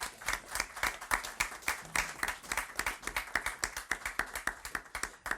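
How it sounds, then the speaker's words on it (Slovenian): An audience at a Slovenian book presentation claps in a moderately quiet room, the individual hand claps distinct and rhythmic, sustained evenly for over five seconds. "en aplavz prosim za tole"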